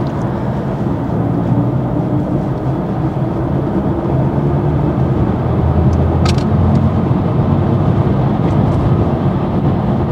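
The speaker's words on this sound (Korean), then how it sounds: "이거 한스 짐머가 이 사운드를 했다 하더라고요." A BMW i4 eDrive40 electric car under way, its Hans Zimmer–designed driving sound blending into a steady, loud rumble of road and cabin noise that holds level throughout with no talk.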